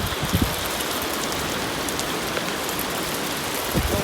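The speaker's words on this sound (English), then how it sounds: "Well, hailstones are coming in caravan." Hailstones and falling pine debris patter densely on the roof of a caravan at a Derbyshire caravan site in mid-April, a steady, close, hissing drumming with a few louder knocks.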